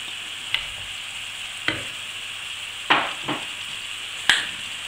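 Tomatoes simmering in a pan for a Provençal monkfish dish with thyme and basil, giving a low steady sizzle broken by a few sharp scrapes and clicks of a utensil stirring the pan.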